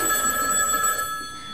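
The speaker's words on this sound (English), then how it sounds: "Answer the phone. Come on, answer the phone." A telephone bell rings in a steady electronic trill for about a second, moderately loud and near, then fades into a quiet room with no talking.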